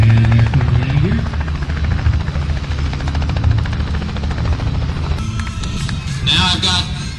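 Radio-controlled scale model aircraft flying at the 2008 Paso Robles air show, a continuous buzzing engine drone with its landing gear coming down, heard under an announcer's commentary and crowd noise.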